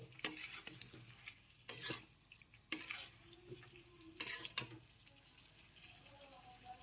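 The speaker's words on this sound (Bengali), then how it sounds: "আলু আর ফুলকপিটা সেদ্ধ হতে দেওয়ার জন্য জল মিশিয়ে নিতে হবে তার আগে আমি একটু নেড়ে চেড়ে নিচ্ছি" A utensil stirs potatoes and cauliflower in a pan for dahi gobhi, with several sharp scraping clatters against the pan over a low background sizzle; no one talks.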